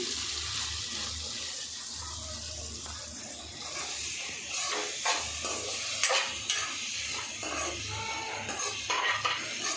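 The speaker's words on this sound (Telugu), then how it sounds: "కాకరకాయ వేసిన కదా మంచి కలుపుతున్నా" Bitter gourd curry fries in a pan with a steady close sizzle, while a spoon stirs and scrapes through it in uneven strokes that grow a little busier toward the end.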